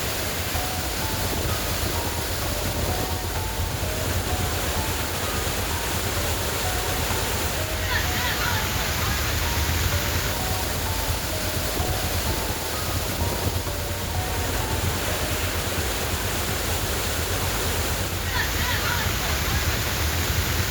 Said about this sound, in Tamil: மெயின் அருவி, பழைய குற்றாலம், ஐந்தருவி உள்ளிட்ட அனைத்து அருவிகளிலும் மழைநீர் ஆர்ப்பரித்து கொட்டியது.